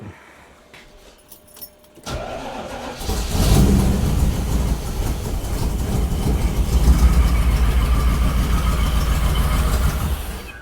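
A car engine, a Plymouth Road Runner recently converted to EFI and fitted with a smaller thermal quad intake, catches after about two seconds and runs loud and steady close by, with no talk.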